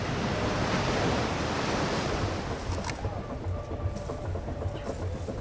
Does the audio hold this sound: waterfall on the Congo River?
yes